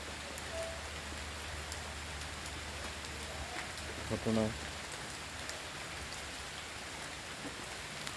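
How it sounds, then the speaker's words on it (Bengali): Light rain falls outdoors at night, a faint, steady patter on surfaces throughout, with a brief spoken word partway through. "এখন একটু বৃষ্টি হচ্ছে"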